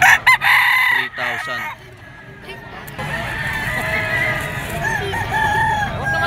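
A two-year-old white-legged rooster of Boston bloodline at a pet market crows loudly up close, followed by softer clucking over a busy background of other fowl and faint crowd murmur.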